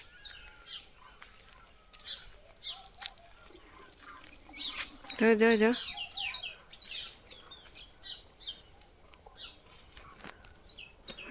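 Birds near a farm field chirping throughout in short scattered tweets, with one louder warbling call in the middle, fairly faint and open-air, with a brief spoken word.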